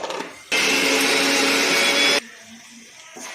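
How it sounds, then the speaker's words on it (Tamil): A kitchen mixer grinder whirs loudly for under two seconds, grinding coconut with curry leaves, garlic, ginger and spices, a steady high-pitched motor roar that starts and stops abruptly against a quiet room. "1 கப்பு தேங்காய் மிக்சியில் போட்டுக்கிட்டோம்."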